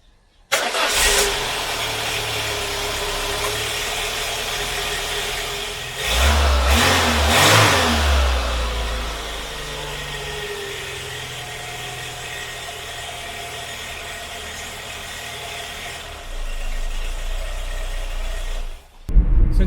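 A 1980s Citroen BX engine cranks and starts, then revs briefly and settles into a steady mid-pitched idle after an air filter change, near and without talk, with a second rise in engine noise toward the end.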